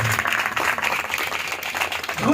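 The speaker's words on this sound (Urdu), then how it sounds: "زوردار تالیاں بجا کر خداوند کے نام کو مبارک کریں" Loud congregational applause at a Urdu-language church service praising the Holy Spirit, a dense steady wash of many hands clapping together throughout, fairly close and sustained.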